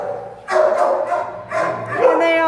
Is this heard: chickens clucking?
no